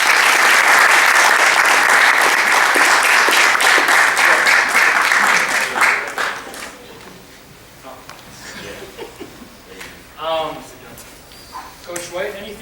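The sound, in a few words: applause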